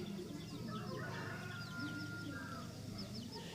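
Chickens cluck and chirp continuously around a garden plot of soil mixed with manure, with a steady bed of low farmyard noise beneath the calls.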